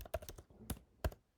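Keystrokes on a computer keyboard while coding, a quick burst of clicks followed by two louder isolated key presses, close and clear with no talking.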